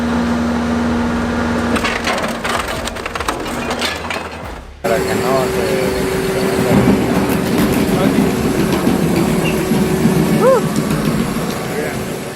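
A BM1000 single-shaft industrial shredder with 1,000 Nm of torque tears through rubber shoe soles. Loud, continuous crunching and splintering over a motor drone shifts abruptly partway through, then carries on with rough, dense grinding.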